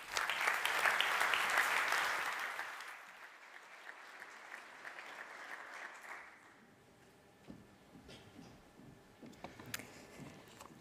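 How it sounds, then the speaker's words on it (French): Audience at a public morning conference on a canton's future applauds to welcome a speaker, clapping strongly for about three seconds and then dying away into faint room noise and small scattered sounds. "Merci d'accueillir et d'applaudir bien fort"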